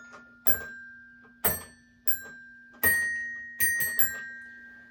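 Bright bell tones ring out one after another, six distinct strikes with ringing decays over a faint steady hum.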